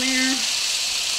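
Beef roast searing in hot oil in a pan, a steady bright sizzle filling the whole moment after a brief tonal hum at the start, close and fairly loud.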